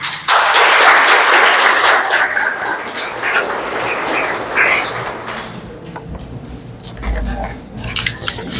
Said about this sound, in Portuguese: com a presença, e peço uma salva de palmas, de Arthur Paiva.